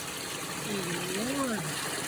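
Steady broadband rush of a flowing creek, close and continuous, with a brief voice-like sound rising over it midway.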